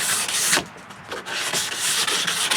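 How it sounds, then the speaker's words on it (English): Hand sanding a wooden dog bed frame, close rhythmic rasping strokes of abrasive on wood repeating steadily, with no voices. "we'll sand it down a bit"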